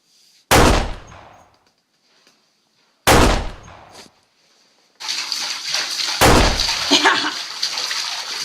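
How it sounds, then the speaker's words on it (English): Three sharp pistol shots ring out in a dark night scene of an audio drama, spaced about three seconds apart, loud and close, with a hissing water-like ambience rising after the second shot and continuing under the third. "Pistol shot."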